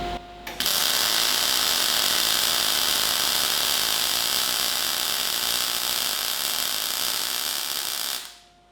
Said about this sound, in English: that's the kind of sound we're looking for when we're setting the MIG welder